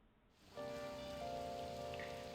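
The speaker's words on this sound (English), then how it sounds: "I feel so down when it's raining." Rain falls in the video game Persona 5 Royal, a steady soft wash of droplets over a faint tonal drone, no voices.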